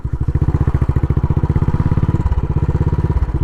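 Royal Enfield Bullet Trials 500 replica single-cylinder motorcycle engine climbing a hill, a loud, steady rapid thumping exhaust beat close by that shifts slightly in pitch partway through as it pulls.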